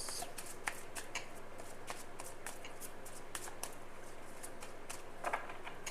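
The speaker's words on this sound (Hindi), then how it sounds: "आपके सामने मैं कार्ड्स को शफल कर देती हूँ ताकि आपकी एनर्जी इसमें अलाइंड हो" Tarot cards being shuffled by hand during a card reading, a close, quiet stream of crisp riffling clicks and papery flutters that holds steady throughout, with a brief louder burst near the end.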